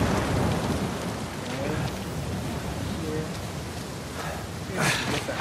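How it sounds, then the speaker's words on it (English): Heavy rain and rolling thunder in the video game Uncharted 4: A Thief's End, a dense, constant downpour hiss with low rumbling underneath and a brief swell near the end, with a voice speaking over it. "Hell out of this goddamn rain."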